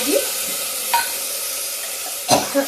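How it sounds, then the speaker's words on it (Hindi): Onion with chana and moong dal sizzles and fries in a pan, a steady hiss broken by a few clinks and scrapes of a stirring spoon, close and alone. "अब इसको थोड़ी देर हम फ्राई कर लेते हैं।"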